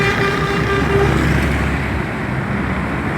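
A Coca-Cola truck rumbles past on the road, a loud, close, continuous engine drone over traffic noise that fades slightly as it moves on.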